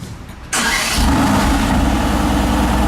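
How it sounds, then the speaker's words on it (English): A car with a titanium exhaust fires up: a short crank, then the engine catches loudly and settles into a deep, rumbling idle, heard close and without talk. "But we'll fire it up, reverse it back, and go from there."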